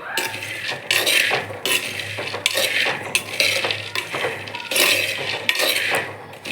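Dry peanuts stirred continuously in a pan over medium heat, giving a steady, busy rattling and scraping of nuts against metal in repeated sweeping bursts, close and fairly loud with no talk.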